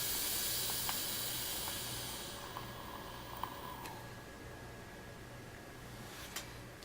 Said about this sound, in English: Let's take a vape.